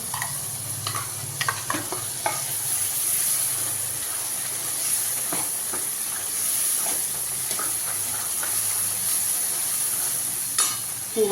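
A pan of mushroom curry with ground coconut and onion bubbles and sizzles steadily, with occasional stirring scrapes and soft pops over a constant hiss.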